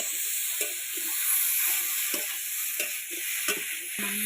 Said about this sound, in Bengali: ভেজে রাখা আলু ফুলকপি নিয়ে, আলু ফুলকপি নিয়ে দিয়ে দেবো।